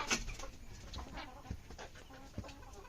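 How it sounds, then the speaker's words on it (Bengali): Two roosters fight nearby, giving faint, scattered clucks and short scuffling bursts over a quiet, steady background. "দুই মুরগি পুরো যুদ্ধ, থামার সিস্টেম নেই।"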